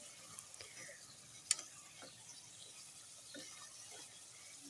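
Marinated chicken karahi sizzles softly in a pan while a spoon stirs it, giving faint scraping and an occasional sharp clink against the metal, with no talking.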